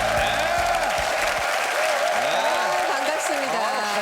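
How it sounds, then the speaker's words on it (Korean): Studio audience applauding steadily on a Korean TV variety show at the Army Training Center, with veteran trainees present; the dense clapping runs for about four seconds as a voice speaks over it. "박수 보내주세요."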